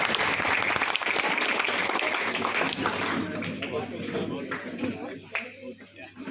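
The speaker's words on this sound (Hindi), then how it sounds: "एक बार जोरदार ताली के साथ स्वागत कीजिए" An audience at a madrasa's Republic Day celebration bursts into loud, dense applause to welcome a guest; the clapping fills the first half, then thins and fades into scattered claps and murmurs.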